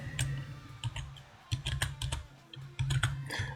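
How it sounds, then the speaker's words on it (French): Rapid, uneven clacking of a computer keyboard being typed on, close and fairly loud, with bursts of keystrokes over a low background rumble. "J'ai voulu écrire avec mon clavier"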